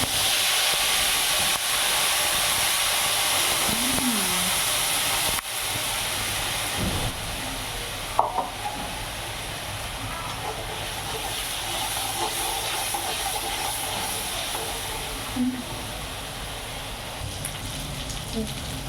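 Onion paste hits a hot pan with asafoetida for a Gujarati eggplant and potato dish, giving a loud, sustained steamy sizzle that settles into a softer hiss, with a brief faint voice early on.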